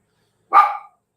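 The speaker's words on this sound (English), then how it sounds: "Chili, pardon the dog, she's a bit excited." A single sharp bark from an excited female dog rings out indoors, loud and close, starting abruptly and trailing off quickly within half a second, with silence before and after.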